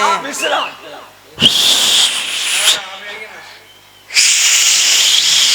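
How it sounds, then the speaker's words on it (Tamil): Loud, shrill whistling bursts from a performer at a Tamil folk stage show, two long blasts with crowd noise and talk between them. "விசில் விசில் விசில் எப்படி"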